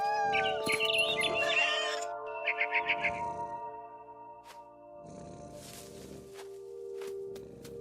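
A cat meows several times in the video game What Remains of Edith Finch, with musical tones and chirps around it, the calls close and clear.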